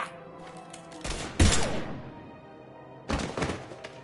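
Gunfire in the video game Mass Effect 3, a loud burst of heavy thudding shots with a second burst later over a continuous rumbling game ambience.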